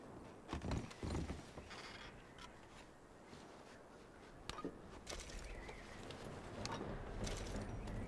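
Horse hooves in Red Dead Redemption 2 clop on hard ground in an irregular walking rhythm, moderately close, with faint ambient outdoor noise and occasional rustling.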